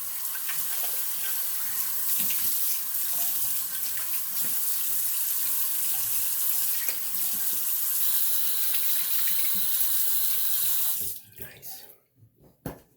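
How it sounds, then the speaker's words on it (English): A tap runs a steady cold-water stream into a sink for about eleven seconds to rinse a double-edge safety razor, with small clinks and splashes, then the flow cuts off into near silence. "Okay, cold water rinse."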